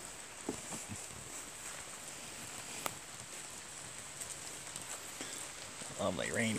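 Steady rain falls on a fall morning in a yard with deer, a soft even patter with a few sharper drips and taps, and a voice speaks briefly near the end.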